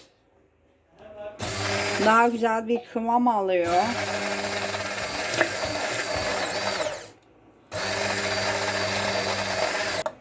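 A blender motor whirs in steady bursts while making mayonnaise as olive oil is slowly added, running, pausing briefly, then starting again, with a person talking over the first part.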